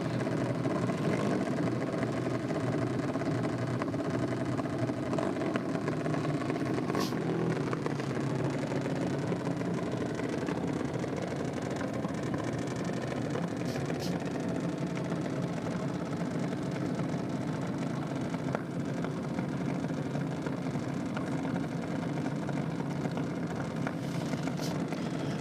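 Junior dragster engines drone steadily at a drag strip during a nitro championship meeting, a continuous, moderately distant mechanical rumble with faint crowd and ambient noise throughout.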